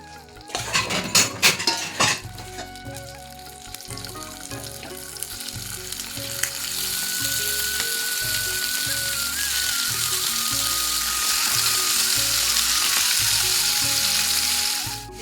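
Prawn pieces sizzle steadily as they fry in oil in a pan for a prawn malai curry. A few metallic clinks and stirring knocks come at the start, then loud, continuous frying with no voices.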